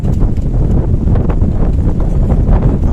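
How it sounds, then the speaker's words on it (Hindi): Wind gusts outdoors at the Udayagiri caves in Vidisha, Madhya Pradesh, a loud, continuous blustery rumble buffeting the microphone for the whole stretch, with no one talking. "हवा चल रही है।"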